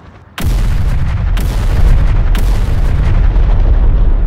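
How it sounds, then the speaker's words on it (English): Rocket strikes slam down in the video game Terminator: Dark Fate - Defiance, set in Chihuahua, Mexico. Three heavy, booming explosions land about a second apart, and a loud rumbling roar carries on beneath and after them. "Rockets arrive."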